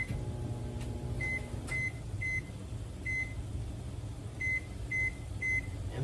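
A microwave oven's timer gives a series of short, sharp electronic beeps as its buttons are pressed, spaced irregularly over a low steady hum, close by and with no talking.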